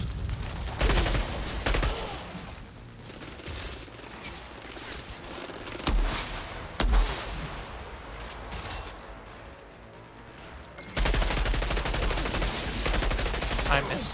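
Automatic gunfire in the shooter game Outriders comes in loud, dense bursts separated by calmer stretches of quieter combat, with a long sustained volley near the end.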